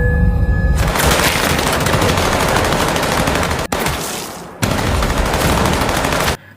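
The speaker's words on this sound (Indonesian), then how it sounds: "Di tengah tangga terjadi adu tembakan antara dua kubu." Sustained heavy gunfire from a stairwell shootout between two armed groups in Squid Game season 2, episode 7, a dense continuous barrage of rapid shots that breaks off briefly twice before resuming at full loudness.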